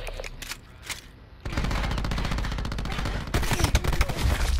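Gunship killstreak in a Call of Duty video game firing heavy, rapid automatic bursts that run on continuously and grow louder and denser toward the end.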